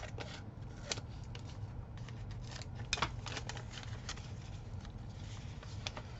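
Scissors trim patterned paper leftovers for a scrapbook craft layout: a quiet run of short, crisp snips in an irregular rhythm, close up, with faint paper rustling between cuts.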